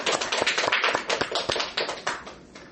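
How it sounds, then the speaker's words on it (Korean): A church congregation claps for several seconds in fairly quick, uneven rhythm, close and moderately loud, fading slightly at the end. "여러분 모두 박수로 다시 한번 응원하시기 바랍니다."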